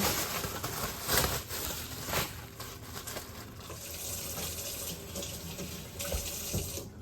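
Tap water runs steadily into a sink while a small part of a mill is washed, a close continuous gushing splash with small clinks and shifts in the flow.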